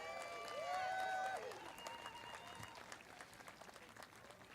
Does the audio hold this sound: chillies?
no